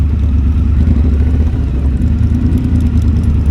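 A pack of Triumph motorcycles on the Distinguished Gentlemen's Ride in Edinburgh rumbles loudly and continuously nearby, engines droning low with slight revving swells and no talking.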